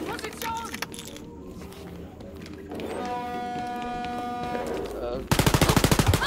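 Rapid automatic gunfire from the video game Wolfenstein: Youngblood, a dense burst of closely spaced loud shots that cuts in near the end, preceded by busy game ambience and a sustained tonal hum.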